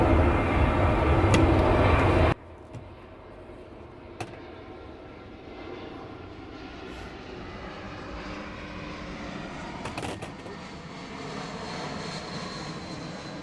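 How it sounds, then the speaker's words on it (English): An aircraft passes overhead outside a garden shed, a steady distant engine rumble that drones on for over ten seconds after a louder burst of nearby noise cuts off abruptly. "Plenty of aircraft coming in today"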